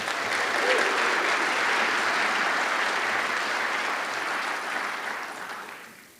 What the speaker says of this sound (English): Let's give a round of applause for Lac Willam's.